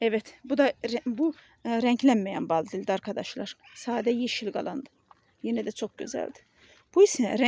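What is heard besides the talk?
No everyday noises stand out.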